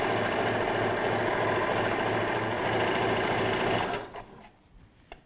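A sewing machine stitches fabric for a table runner, backstitching to lock the seam. The needle runs in a fast, even, close mechanical chatter for about four seconds, then stops, leaving a quiet room with a few faint clicks.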